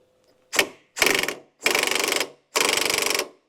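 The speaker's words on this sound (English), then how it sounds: "It's a 36mm and I've got the snap-on gun to go on it." A Snap-on impact gun hammers a 36mm nut on a classic air-cooled VW in four close, loud bursts, the first short and the later ones rattling for about half a second each, with brief silences in between.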